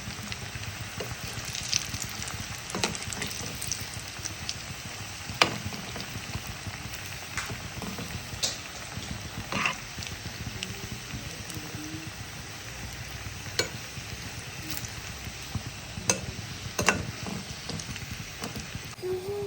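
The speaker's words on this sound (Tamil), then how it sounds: "இப்போ நம்ம இதை ஆயிலில் ஃப்ரை பண்ணி எடுக்க போகிறோம்." Potato cheese balls fry in hot oil, giving a steady, dense sizzle with scattered crackles and pops that continues without break, close and moderately loud.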